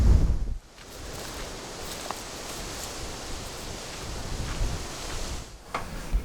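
Gusty wind blows through a wooded creek bottom on a cold, 45-degree day with 30 mph gusts during a Missouri deer hunt, a steady close rush with rustling and buffeting on the microphone, a stronger burst at the start and again near the end.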